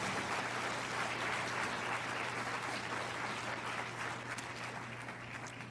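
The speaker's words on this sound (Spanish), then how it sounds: "Dele otro aplauso al Señor." A church congregation applauds during a Spanish-language sermon, sustained and even clapping from a large room at moderate level over a low steady hum, without speech.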